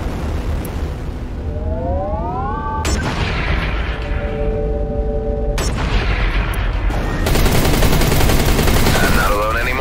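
Spaceship weapons firing in the Everspace 2 video game, a steady barrage of loud blasts and booms with sweeping electronic tones and rising whines layered over a dense, continuous combat rumble.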